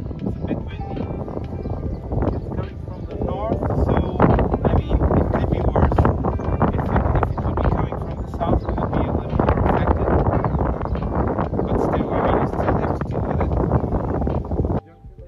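Steady wind blowing on an Atlantic ocean shore in Portugal, a continuous loud buffeting roar across the microphone with little variation, no clear voices heard.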